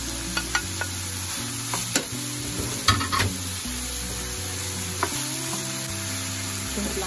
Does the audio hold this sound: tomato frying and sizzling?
yes